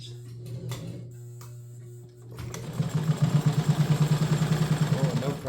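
A Kenmore 117.589 sewing machine stitches through two layers of split leather at a slow, long stitch, its motor humming steadily before a rhythmic, loud chugging of needle strokes begins.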